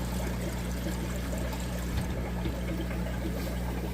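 Water runs steadily through a fish-breeding setup holding Praecox rainbowfish eggs, a constant, fairly loud wash with a low hum beneath it and no pauses.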